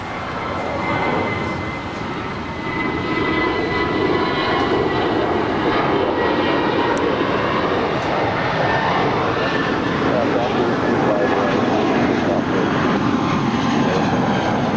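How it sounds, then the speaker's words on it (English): An Asiana Airbus A350 taxis at LAX toward the Tom Bradley gates on the airport's north side, its jet engines giving a loud, steady, broadband roar that holds evenly for the whole stretch. "That's the Asiana A350 now making her way to the gates of Tom Bradley up there on the north side"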